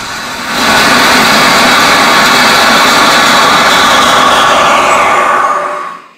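A three-cylinder rocket engine test-fires in a workshop with the throttle opened, a loud, steady, roaring hiss that swells up within a second, holds for several seconds, then cuts off abruptly.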